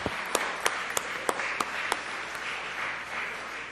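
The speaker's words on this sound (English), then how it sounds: "Let's give both of those a round of applause." A scattered round of applause in the Mississippi State Senate chamber, a few sharp distinct claps standing out at first, then settling into a softer, even patter from a modest group.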